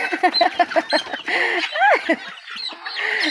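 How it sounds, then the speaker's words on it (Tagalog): Chickens cluck in quick, irregular bursts close by, with a few rising squawks mixed in and brief gaps between calls. "Dami akong ibon."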